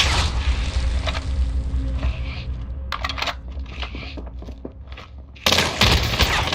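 Gunfire in a PC shooter comes as sharp bursts of rapid shots, some close and loud, some farther off, with brief gaps between volleys.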